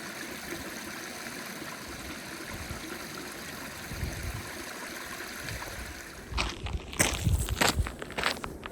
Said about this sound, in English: I spent the evening listening to the sound of the stream.